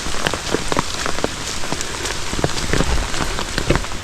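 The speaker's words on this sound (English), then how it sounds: "maybe the rain will like let up for just a little bit." Steady rain falls on a campsite at Cumberland Island's Brickhill Bluff, a dense close patter with scattered louder drops striking nearby surfaces throughout, no voices.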